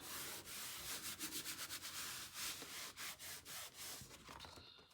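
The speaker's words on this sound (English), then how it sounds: "Burnish it down a bit." Felt pieces are rubbed and burnished down onto a board in a quick, rhythmic series of close, soft scraping strokes with no speech.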